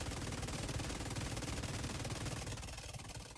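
An M249B machine gun fires in one continuous rapid burst in The Division 2, loud, close and dense throughout, easing slightly at the end.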